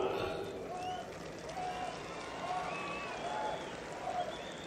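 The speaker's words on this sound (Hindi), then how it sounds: "आपकी तालियों की आवाज से मुझे लग रहा है" A crowd applauding steadily, with scattered cheers and whistles rising over the continuous clapping, at a speech about the passing of the upper-caste reservation bill in India's Rajya Sabha.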